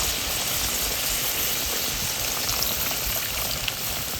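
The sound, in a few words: water poured into pan of aloo posto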